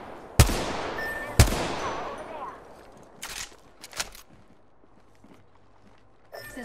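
Gunfire in Apex Legends: two loud, sharp shots about a second apart with ringing tails, then several fainter bangs and rustling movement over a low background.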